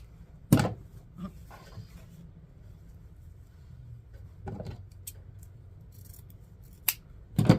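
Scissors snip through wreath deco mesh at close range, a few sharp isolated cuts separated by quiet gaps, with faint handling rustle in between.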